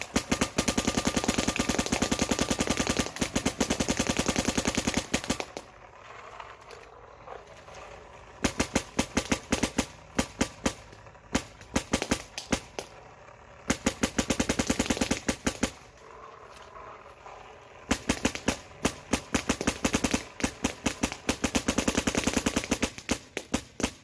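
Paintball markers, a Field One Force and a Planet Eclipse CS2, fire rapid strings of sharp pops, close and loud, in long bursts broken by short quiet gaps.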